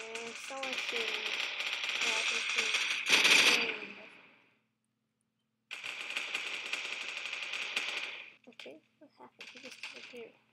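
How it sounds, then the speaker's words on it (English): Rapid bursts of automatic gunfire in the online shooter Phantom Forces, long sustained rattling volleys with a brief silent gap, then a few scattered shots at the end. "And someone's shooting."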